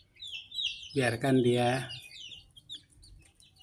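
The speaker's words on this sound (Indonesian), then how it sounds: "Jadi anak-anak ayam ini" Fourteen young free-range village chicks let out to roam for the first time give high, thin peeps and chirps scattered around a person speaking briefly nearby.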